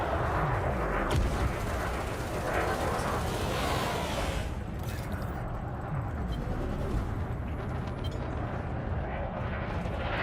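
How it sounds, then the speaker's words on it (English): Ship guns in the space combat game Elite Dangerous fire in a dense, continuous barrage, a loud rumbling roar of rapid shots and impacts that holds steady for the whole stretch with no clear break. "There's so many bullets coming out of these things"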